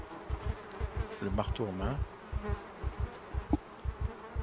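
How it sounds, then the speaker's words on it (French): Flies buzz in the video game Project Zomboid, a steady insect drone pulsing in rapid regular beats throughout. Someone talks briefly over it partway through. "Oh, les bruits de mouches, c'est le drame absolu"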